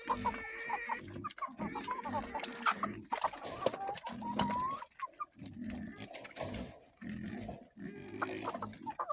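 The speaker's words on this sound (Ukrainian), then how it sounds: "Свині пищать, курі куткудачать." Hens cluck busily while pigs squeal in bursts, a noisy village farmyard chorus close by.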